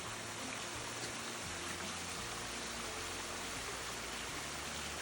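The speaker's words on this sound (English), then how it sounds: "It's always good to have water nearby." A stream runs beside a hiking trail, making a steady, broadband rushing hiss that neither rises nor fades, moderately close, with no voices.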